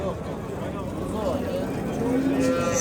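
Cows and heifers low at the Shahidon livestock market. Drawn-out moos rise over a constant murmur of crowd noise and people talking.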